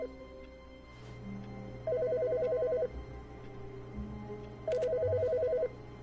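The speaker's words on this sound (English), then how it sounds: "Wait, the phone is ringing?" A telephone rings twice inside The Stanley Parable video game, each ring a steady electronic trill lasting about a second with a pause between, set over a low ambient hum and heard alone without speech.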